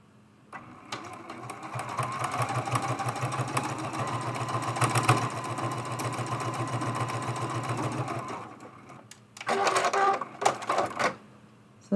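A sewing machine runs a straight-stitch seam at a 2.6 stitch length on an autumn mug rug, a steady mechanical whir lasting about eight seconds, then short bursts of stitching near the end.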